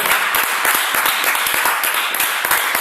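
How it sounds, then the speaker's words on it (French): A church congregation applauding together, dense rhythmic hand claps close and continuous throughout. "Est-ce que nous pouvons applaudir pour la gloire de Jésus?"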